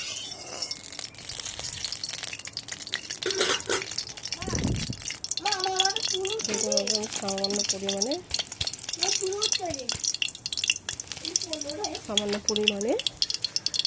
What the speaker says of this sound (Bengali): তেলটা গরম আসলে আমি এতে কালো জিরে একটু সামান্য পরিমাণে ফোড়ন দেবো।